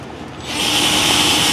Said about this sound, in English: you start drilling